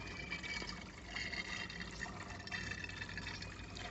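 AdBlue DEF fluid draining from a 2.5 gallon container into the tank of a 2016 Range Rover L405 TD6, a faint continuous gurgling trickle of liquid, steady and close.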